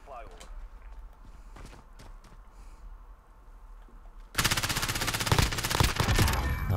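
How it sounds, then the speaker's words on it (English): Rapid automatic gunfire bursts out in Call of Duty Modern Warfare after a stretch of scattered footsteps and quieter game sounds, then stays loud and sustained to the end. "that was bad shooting"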